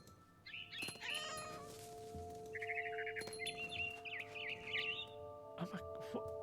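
Meows from a cat character in the video game What Remains of Edith Finch, a few short cries spread across the clip over steady game ambience, with faint bird chirps mixed in and no talking.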